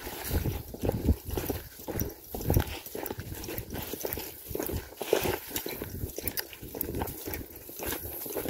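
A trail horse walks with an irregular clip-clop of hooves on the ground at moderate distance, over a steady background.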